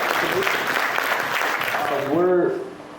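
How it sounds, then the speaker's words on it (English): A crowd at a Percussion for Parkinson's event claps steadily for a few seconds after a tabla performance, and a voice speaks briefly as the applause fades out. "Can we get a round of applause for that?"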